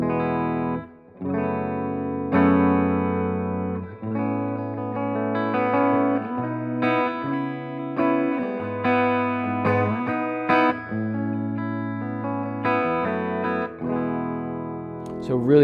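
Electric guitar playing a clean American-style tone through a Blackstar HT Venue MK3 valve amp on the clean channel with digital reverb, ringing chords and single notes in a steady, close, unaccompanied phrase with short gaps and reverb tails.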